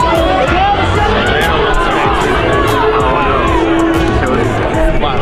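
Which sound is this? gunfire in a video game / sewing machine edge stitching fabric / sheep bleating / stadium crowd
stadium crowd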